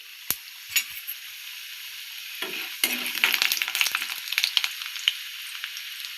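Urad dal and chana dal fry in a pan, quiet at first with a few sharp taps, then a busier crackling sizzle with scattered pops and stirring scrapes.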